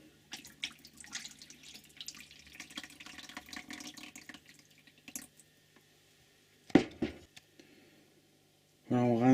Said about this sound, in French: Alors on met l'eau.